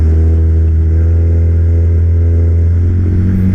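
Honda ADV 150 scooter ridden along a damaged road, giving a loud, steady engine drone with a strong low hum that holds without a break throughout.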